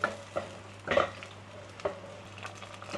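Massaman curry paste sizzles softly in a hot pan as coconut milk is stirred in, with scattered scraping and tapping of a utensil against the pan over a low steady hiss.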